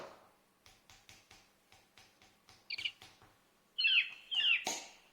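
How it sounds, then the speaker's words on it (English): Soft ticking taps, then a bright electronic bird-call tone chirps several times, loud and close, a phone's message notification. "you heard a bird call there? That's my tweet message thing."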